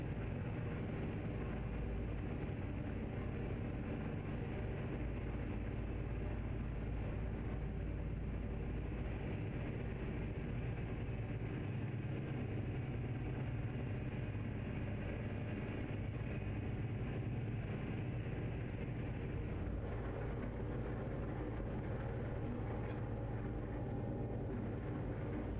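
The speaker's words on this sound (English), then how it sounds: "I don't know why this one is so much louder than every other truck." A truck engine in a trucking video game hauling a double trailer runs at a loud, steady drone with a heavy low rumble throughout, unusually loud compared with other trucks, with no talk over it.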